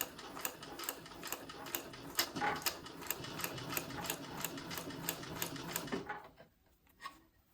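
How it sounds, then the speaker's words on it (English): A sewing machine stitches a seam at a steady, rapid pace, its needle clattering in an even mechanical rhythm close by for about six seconds before it stops, leaving near quiet with a faint click. "we're going to go ahead and start sewing."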